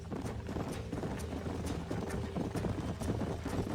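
Horse hooves clip-clop in a steady, rhythmic patter in the video game Red Dead Redemption, close and fairly quiet, with a faint low hum underneath.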